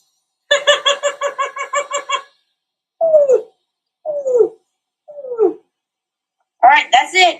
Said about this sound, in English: I'm going to do a greater roadrunner for the last one.